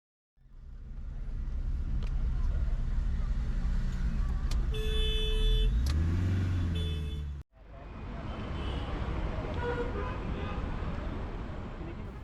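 A Mumbai local taxi rides through city traffic with a steady engine and road rumble throughout. A few horn toots and a rising engine whine come midway, then there is a brief cut.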